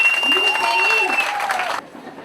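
An audience at an International Women's Day gathering applauds courageous women, a dense wash of clapping with some voices mixed in, fading near the end.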